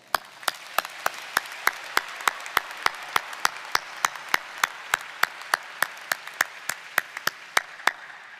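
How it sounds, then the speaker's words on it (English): Steady, evenly spaced claps ring out alone at a graduation ceremony, a sharp rhythmic beat about three per second, close and clear over a faint hall background. "and that deserves a round of applause."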